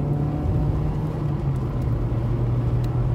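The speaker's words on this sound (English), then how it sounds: "The 2-litre ZTEC engine." A 30-year-old car with a 2-litre Ford Zetec engine runs steadily, giving a low, even droning hum and rumble heard from inside, with no talk over it.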